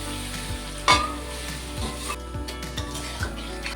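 Chicken frying in oil in a pan while being stirred, for a homestyle chicken chowmein, with a steady sizzle and repeated scraping strokes of the spatula at close range, about once every half second, one sharper clatter near the start.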